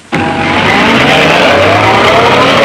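An old car in a Western setting pulls away hard with tires squealing, the engine surging suddenly and staying loud and close throughout.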